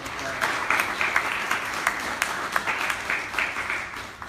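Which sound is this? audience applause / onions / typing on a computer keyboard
audience applause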